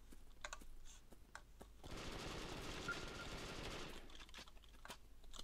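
Rapid automatic gunfire from the online shooter Brick Force on the Asia Town map, a sustained burst of a couple of seconds between sparse clicks and tapping, alone without talk.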